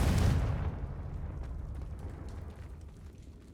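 A Confringo fire spell explodes in the Hogwarts Legacy video game, giving one loud, close blast with a heavy low boom that quickly falls into a long, rumbling decay. No one speaks.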